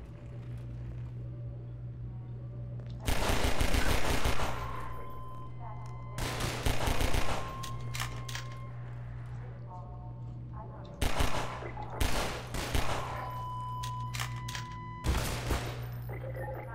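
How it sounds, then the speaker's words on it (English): Bursts of rapid gunfire aimed at the player in Half-Life 2, four loud clattering volleys separated by quieter gaps over a steady low engine-like hum. "Who's shooting at me?"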